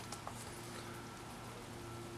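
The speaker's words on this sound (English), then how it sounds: "It's raining pretty hard." Steady rain falls continuously, a soft broadband patter with a low hum underneath, no voices present.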